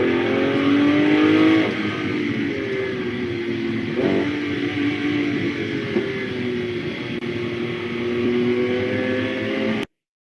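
A real car engine recorded up close holds a continuous harmonic hum with pitch rising and falling as revs vary, a brief surge around the middle, before stopping abruptly at the end.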